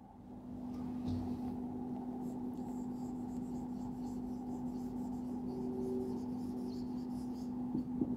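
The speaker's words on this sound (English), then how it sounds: "See here, first of all I am writing chapter 2 over here." Chalk or marker scratching steadily across a classroom board as a teacher writes a chapter heading for a sixth-grade maths lesson, heard close and continuous over a low steady room hum, with no talking.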